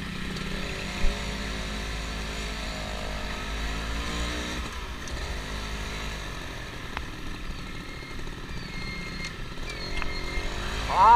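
Yamaha Force One 110cc motorcycle being ridden on a road, a continuous engine drone that rises and falls with throttle changes, heard close and steady with other traffic faintly around it.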